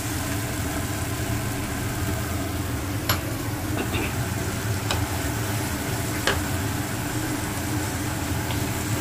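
Tomato, onion and green chili masala goes into a frying pan for a prawn and pui shak chorchori, giving a steady, loud sizzle with a few sharp clicks from the spatula or pan throughout.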